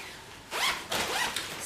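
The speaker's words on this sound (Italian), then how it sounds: "poi quest'altra con zip doppio, nel senso che si può aprire da un lato e dall'altro" Double zipper on a storage bag for shoes or laundry being pulled open in two quick close strokes, a brief pause between them, with no talk.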